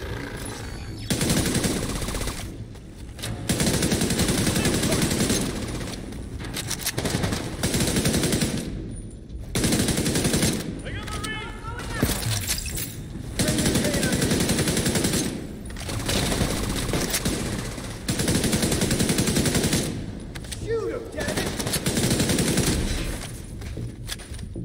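Long sustained bursts of machine gun fire in The Division 2, loud and dense, broken by short pauses between several-second volleys, with no talk over it.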